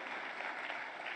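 Applause at a national film award ceremony, a brief burst of dense, even clapping from a large crowd, steady and unbroken with no voice over it.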